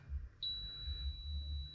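A continuity tester's steady high-pitched electronic beep starts after a brief pause and holds continuously to the end, over a low background hum, while testing an Ampeg Portaflex PF-350 bass amplifier.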